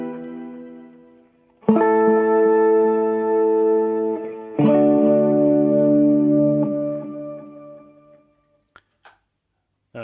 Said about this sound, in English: this kind of ice one that adds this octave sound